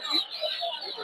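Sonali chickens at a rural village poultry market, a few short clucks and calls close by in quick succession over light background activity.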